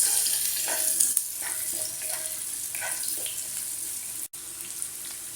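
Onion, garlic and ginger sauteing in a pan, a steady close hiss and sizzle with faint scraping and stirring clicks throughout, no voices.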